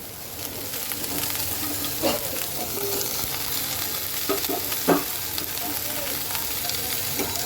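Chopped vegetables and spices are stirred and fried in a pan, with a steady close sizzle and occasional scraping knocks from the utensil over an even hiss. No one speaks.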